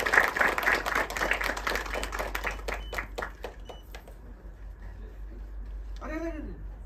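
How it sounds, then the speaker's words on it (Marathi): Applause from an audience at a Marathi film trailer launch event, a burst of clapping that thins out and fades after a few seconds, followed by a brief voice. "जोरदार टाळ्या तेंडुलकर साहेबांसाठी."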